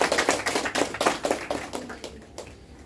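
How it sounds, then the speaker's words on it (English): An audience applauds after a talk, a short round of clapping that is dense at first and thins out toward the end. "We'll give a round of applause."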